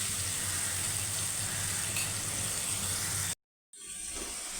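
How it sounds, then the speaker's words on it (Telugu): Onions, green chilies, ginger garlic and tomato paste frying in a pan, heard as a steady close sizzle that continues throughout, briefly cutting out before resuming more quietly, with no talking. "అల్లం వెల్లుల్లి ఉల్లిపాయలు పచ్చిమిరపకాయలు బాగా వేగిన తర్వాత అల్లం వెల్లుల్లి వేసి దాన్ని టమాటా పేస్ట్ కూడా వేసుకోవాలి."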